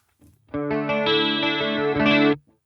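An electric guitar plays through a Boss Katana Air amplifier with the chorus modulation effect on: one strummed chord rings out, shimmering and sustained for about two seconds, then cuts off.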